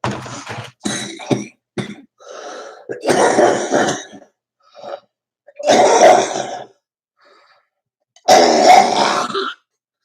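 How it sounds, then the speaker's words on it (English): One person coughs and clears their throat repeatedly, close and loud, in harsh bursts separated by short silences, with grunting strain between fits. "I've had this cough and that wheeze and the stuffed up nose my whole fucking life."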